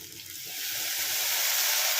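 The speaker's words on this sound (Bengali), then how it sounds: "এবার একটু জল দিয়ে দিই," Water pours into a pot of chicken pulao with spices, making a steady, rising hiss and sizzle up close for a couple of seconds, with no talking.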